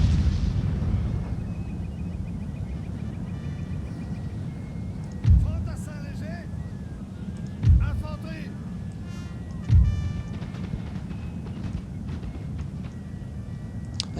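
Infantry volleys in Napoleon Total War as French troops battle Prussians, three distinct booming blasts a couple of seconds apart over a steady low rumble of battle noise, with a voice talking throughout.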